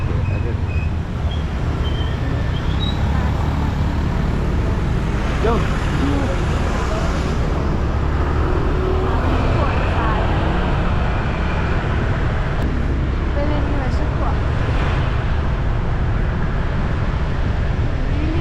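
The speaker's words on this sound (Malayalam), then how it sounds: "എന്നാലും വണ്ടികൾ ഇഷ്ടം പോലെ." Early-morning road traffic in Bali makes a loud, continuous rumble of passing vehicles, with voices heard over the steady roar.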